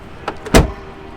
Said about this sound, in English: the sound a 1980s Mercedes makes when you close the door